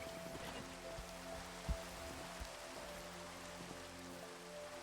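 Steady rain hisses in Minecraft, a soft continuous patter of drops with no talk and a single faint knock partway through.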